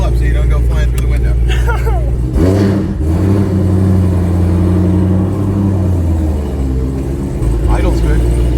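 A modified Chevrolet Corvette C7 Z06 V8 revs loudly and then drops back to a steady rumbling idle, with people talking over the engine.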